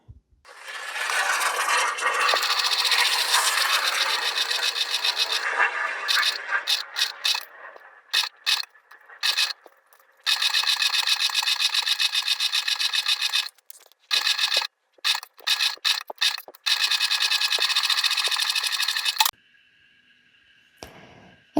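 A sewing machine stitches the flap of a crossbody phone sling bag at a 3 to 3.5 stitch length, running in long loud bursts broken by short pauses, with a quieter mechanical hum near the end.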